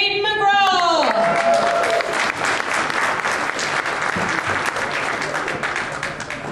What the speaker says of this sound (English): keep your applause going for contestant number 5, Jaden McGraw.